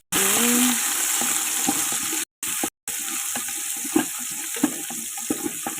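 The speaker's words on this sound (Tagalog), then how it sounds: "lalagyan natin ang sibuyas bawang sabay-sabay na natin" Onion and garlic sizzle together in a hot pan, a steady bright frying hiss broken by two short gaps, with scattered clicks and scrapes of stirring.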